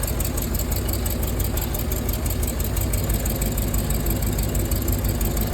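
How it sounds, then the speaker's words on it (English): A Rolls-Royce Silver Cloud S2 engine idles with two cylinders on one side misfiring. It is a steady, close, continuous rumble with an uneven low-end pulse and no talk. "So 2 of the cylinders on this side have a misfire."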